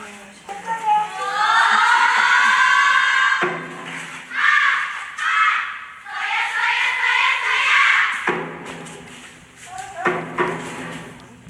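A crowd of students shouting in unison in loud, rhythmic bursts, performing a group drill (shudan kodo) at a Japanese sports day outdoors, calling out commands and responses with pauses between chants.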